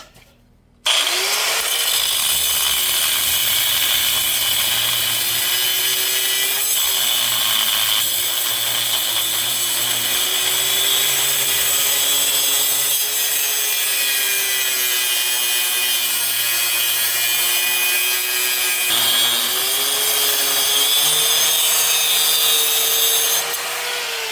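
Angle grinder cutting into the front end of a 1978 C10 truck: a loud, continuous high-pitched whine with harsh grinding hiss and slight pitch wavering as pressure shifts, running steadily for over twenty seconds after starting abruptly.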